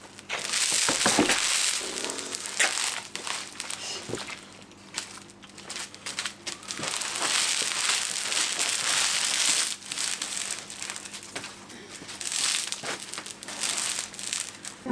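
Roofing felt is cut and handled on a surface set up on outdoor decking, giving a long, continuous stretch of close crinkling, crumpling and rustling with scattered sharper crackles, with no one talking.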